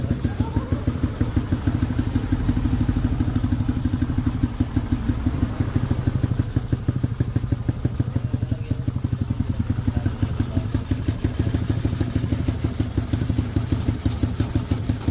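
Yamaha Mio motorcycle with a 4-valve engine running steadily up close, a dense, even engine drone with rapid regular firing pulses and light clatter, holding constant throughout with no clear rises in pitch.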